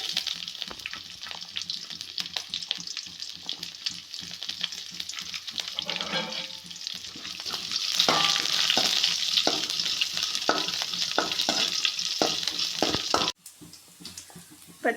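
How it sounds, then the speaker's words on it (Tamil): Green chillies and curry leaves fry in oil in a pan, giving a steady close sizzle with crackling pops, growing louder partway through before cutting off abruptly near the end. "பச்சை மிளகாய் கருவேப்பிலை எல்லாம் வதங்கிடுச்சு."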